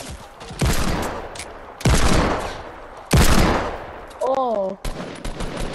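Gunfire rings out in the Fortnite Battle Royale video game, with several loud sharp bursts of shots each trailing into a decaying rumble, a short electronic warble between them, and a player briefly exclaiming.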